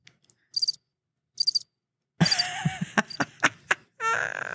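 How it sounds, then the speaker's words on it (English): Short bursts of cricket-like chirping in two brief pulses, followed by a busier stretch of clicks, taps and a tonal squeak, with a loud sustained noise at the end. "Cue the crickets."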